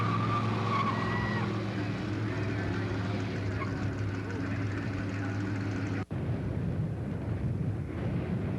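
Vintage Shelby Mustang race cars roar off at the start of a race, a loud, dense wall of engine noise with tire squeal that holds steady before a brief cut, then continues more harshly.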